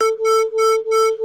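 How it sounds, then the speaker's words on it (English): Steady pulsing of two nearly matched pure tones played at once, slightly out of phase, so the combined sound swells and dips in regular loud beats, with no voices. "So what you are hearing is the interference of those 2 waves"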